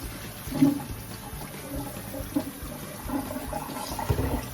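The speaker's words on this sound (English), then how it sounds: "I just pour the cold water in it, and I will let it fill up" Cold water runs and pours into a pot of boiled eggs, a continuous watery rush with small splashes and gurgles, close by and without speech.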